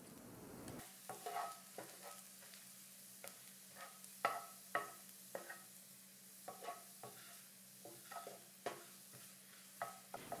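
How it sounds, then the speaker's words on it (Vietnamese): Minced garlic frying in one to two tablespoons of cooking oil in a hot pan, for Yangzhou fried rice, with quiet, repeated scraping clicks of stirring over a faint steady sizzle and no talking. "Chảo nóng thì mình cho 1 đến 2 thìa canh dầu ăn vào, sau đó cho 1/2 tỏi vừa băm vào phi thơm."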